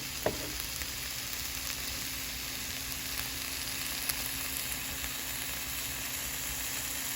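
A steak searing in a pan with butter gives a continuous, even sizzle, with a single sharp clink near the start and no voices.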